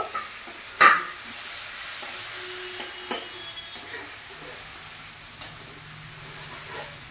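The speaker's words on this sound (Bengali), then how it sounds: "পেঁয়াজটাকে একটু ভালো করে লাল লাল করে ভেজে নিতে হবে" Onions frying in a pan for a brinjal and fish dish, a soft steady sizzle with a few clinks of stirring against the pan.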